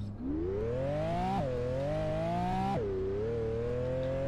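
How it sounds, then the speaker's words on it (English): A hypercar's exhaust note in the Roblox video game climbs steadily in pitch with two sharp gear-shift drops, a smooth, loud synthetic engine sound alone without speech. "we do have some really good sounding exhaust notes here."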